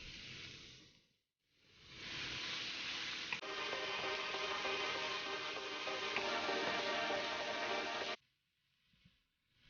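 Pork sizzles and fries in a pan over medium heat for Bicol Express while being stirred, a loud, steady crackling hiss that starts after a brief pause and runs for several seconds before cutting off.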